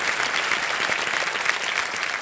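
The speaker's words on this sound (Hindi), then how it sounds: "एक बार फिर से तालियां बजाते हैं आपके लिए।" Studio audience on the quiz show Kaun Banega Crorepati applauds in a steady, dense burst of many hands, loud and even throughout with no talking over it.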